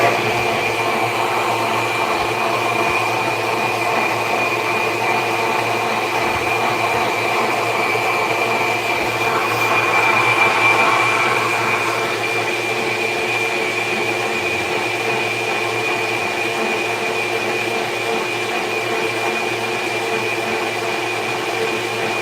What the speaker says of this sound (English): just like any other blender, it has pulse